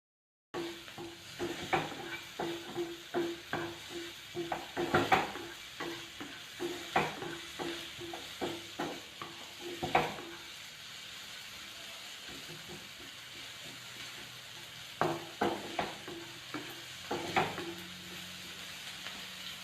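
Snack ingredients lightly fry in a pan with a faint steady sizzle, interrupted by repeated scraping and stirring strokes in bursts, quiet and close.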